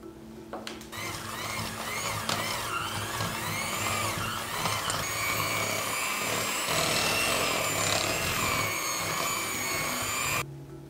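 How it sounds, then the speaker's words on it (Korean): An electric hand mixer whirs steadily for several seconds, its whine shifting as it works through thick royal icing of egg whites, lemon juice and water, then cuts off abruptly. "뽀얗게 될 때까지 핸드믹서로 섞어주세요"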